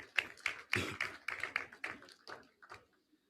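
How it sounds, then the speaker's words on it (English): Scattered handclaps from a modest audience at a ceremony commissioning a 5,000-barrel-per-day modular refinery, about a dozen crisp separate claps that thin out and fade to silence within three seconds. "please give him another round of applause, ladies and gentlemen"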